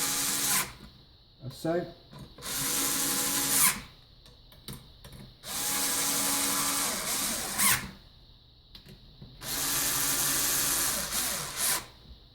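A power tool whirs in repeated bursts of a few seconds each while screws are driven into a Mazda MX-5 ECU case to clamp a circuit board, with short pauses between runs and brief talk.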